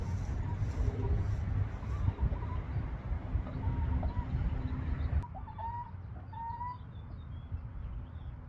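Chickens cluck and murmur nearby inside a deep-bedding barn over a rough, busy background, with a few sharper calls standing out after the noise drops.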